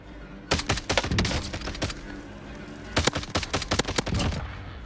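Loud bursts of rapid automatic gunfire in a shooting video game, two clusters of sharp cracking shots separated by a short lull.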